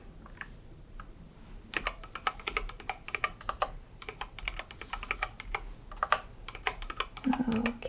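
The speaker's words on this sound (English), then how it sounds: "My scanner isn't working, so I'm just gonna type this in." Fingers type on a computer keyboard, close and soft, with quick irregular clusters of key clicks and brief pauses between bursts, some faint background noise underneath.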